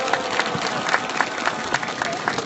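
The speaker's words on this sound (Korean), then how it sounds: "여러분 뜨거운 박수로 맞이해 주시기 바랍니다" Crowd applause at an outdoor Wednesday rally, welcoming the representative of a peace statue committee: a steady wash of clapping with scattered louder claps, moderately near, with faint voices mixed in.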